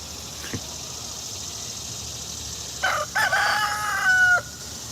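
A single drawn-out chicken call rises faintly from steady background hiss near the end, after a soft knock early on.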